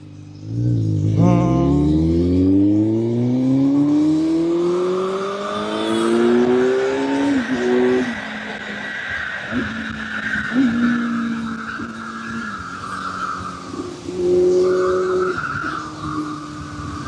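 Kawasaki Z900 inline-four with a slip-on exhaust on a night ride, its engine note climbing loud and close through several gear changes, then holding a steady drone with brief rises. No talk.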